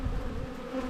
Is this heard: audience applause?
no